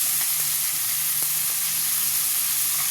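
Ground pork or beef sizzles steadily in a hot pan with garlic and tomato, a dense, even frying hiss with a few faint clicks, close and continuous with no talking.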